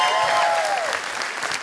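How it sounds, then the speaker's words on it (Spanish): An audience claps loudly and steadily at a comedy roast show, a dense burst of applause that tapers slightly near the end. "Un aplauso para Israel, carnales."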